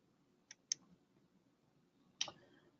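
A computer mouse clicks close by in a quiet room: two sharp clicks in quick succession, then one more after a pause.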